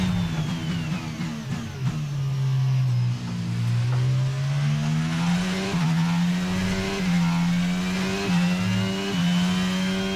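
An F1 car engine in the F1 22 racing game at the Bahrain GP revs and shifts through gears with a continuous loud whining drone, rising and falling in pitch with each upshift and acceleration, with no talk.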